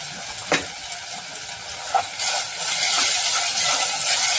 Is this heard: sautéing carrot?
yes